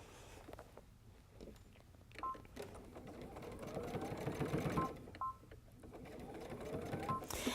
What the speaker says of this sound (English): I'm sewing straight along the edge of the fabric